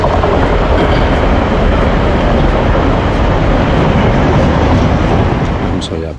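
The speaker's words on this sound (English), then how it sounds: "Yeah, there's a big train there." A big train rushes past close by near Clayton Vale in Manchester on a winter hike, a loud, dense, continuous roar of rolling wagons that fills the whole clip and fades only slightly at the end.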